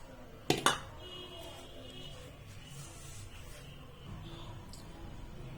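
A frying pan set down on a gas stove gives two sharp metallic clanks close together near the start, then a low steady hiss of the lit burner continues alone.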